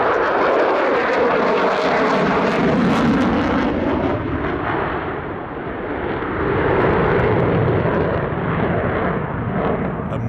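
A fighter jet flying an aerobatic airshow display, piloted by Major Josh Gunderson, produces a loud, sustained jet roar that swells, dips briefly midway and surges again, with crackling rumble and no talk.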